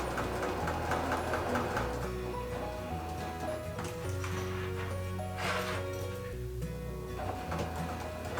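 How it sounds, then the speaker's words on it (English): A sewing machine runs steadily, stitching a fabric wristlet, with a continuous motor hum and rapid mechanical needle chatter that briefly pauses and resumes for a back stitch. "I'm going to do my back stitch just to make sure everything is locked down"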